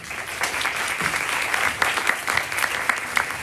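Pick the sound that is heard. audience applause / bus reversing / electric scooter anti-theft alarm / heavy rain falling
audience applause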